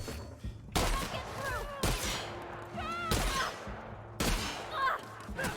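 Shotgun blasts in The Outer Worlds, three or four loud broadband bursts spaced about a second apart, mixed with game effects, tonal chirps and a low hum.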